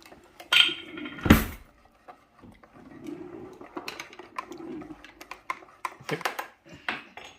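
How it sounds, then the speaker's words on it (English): A spoon stirs marshmallows in a pot, giving scattered scrapes and clinks of metal against the pan, with one loud clatter near the start, all close by and with no talk. "Let's give it a good old stir."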